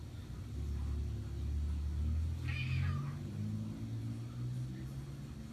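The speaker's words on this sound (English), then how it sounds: "He's meowing at the door." A cat meows once at a door, faint and short, over a low rumbling background drone.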